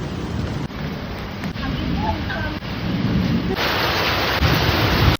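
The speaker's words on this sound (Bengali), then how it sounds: "এরপরেই শুরু হয়ে গেল ঝমঝমিয়ে বৃষ্টি" Heavy evening rain pours down steadily with rumbling thunder, a dense continuous roar that grows louder toward the end, with no pauses.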